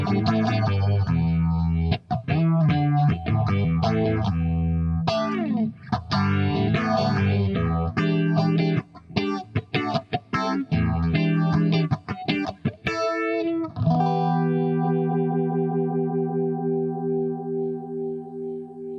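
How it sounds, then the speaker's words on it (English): Electric guitar played through the phaser setting of a multi-effects unit, with a pulsing, univibe-like swirl; a continuous riff of chords and single notes sounds loud and close, then a sustained chord rings out and slowly fades. "This is a phaser. This is it's under the phaser heading of the multi-effects unit, but I can control the pulse of the phase,"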